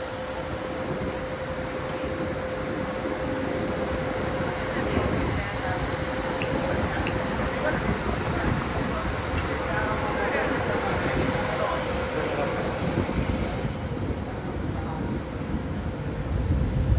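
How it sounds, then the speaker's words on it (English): An electric multiple unit train departs Budapest-Kelenföld station, a steady, continuous rumble and hum of the moving train with a sustained electrical whine running through it, holding at an even loudness throughout. "Here goes the electric mobile unit consist departing Kelenfold"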